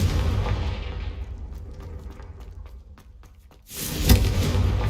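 A Confringo blasting spell bursts in Hogwarts Legacy: a loud, sharp explosive boom rings out near the end, following a quieter stretch of rumbling game ambience and scattered crackles.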